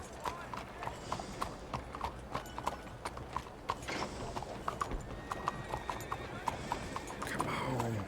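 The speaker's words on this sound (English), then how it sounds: "Can I hitch my horse here?" In Red Dead Redemption 2, a horse's hooves clip-clop in a steady rhythmic walk at close range, with a whinny near the end, while a person talks over the game.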